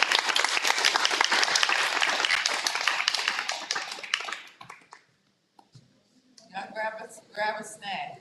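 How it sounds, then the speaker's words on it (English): A conference audience claps in a dense round of applause for about four and a half seconds, fading out, followed by brief silence and then people talking. "if we could just do one more round of applause"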